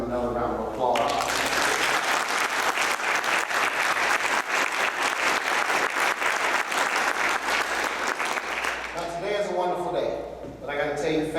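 A crowd at a US Air Force lieutenant colonel's retirement ceremony gives the kids a loud round of applause, sustained dense clapping through most of the stretch, with a voice speaking briefly before and after it.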